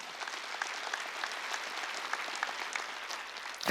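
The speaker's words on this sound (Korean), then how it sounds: "박수 치려면 지금 할래" A church congregation at a Wednesday service claps steadily and densely for several seconds, a continuous wash of applause from many hands with no voices on top.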